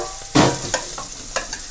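Onions dropped into hot oil give a sudden loud sizzle, then a spoon scrapes and stirs them a few times while the frying hisses on nearby.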